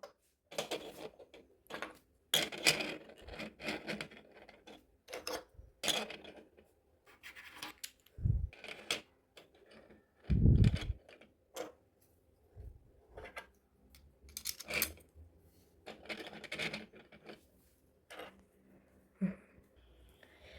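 Plastic toy puzzle pieces from a 14-piece toy-box puzzle are fitted one by one into a folding box, giving close scratchy rubs, clicks and dull thumps in irregular bursts, with no talking.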